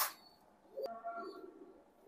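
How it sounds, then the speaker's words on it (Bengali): A few soft, low coos come from Royal Teddy pigeons kept in a loft, quiet and close, with a sharp tap partway through and no speech. "মাশাআল্লাহ কবুতর, অনেক সুন্দর মানের কবুতর"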